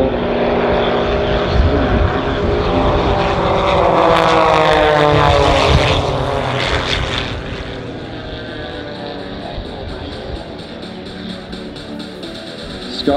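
Sky Aces propeller aerobatic planes at the Avalon Airshow fly a Vic formation roll, a loud, close engine roar that swells and rises in pitch, then eases into a steadier, fainter drone as the planes pull away.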